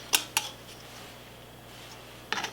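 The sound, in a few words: placing the metal lid on a hot jam jar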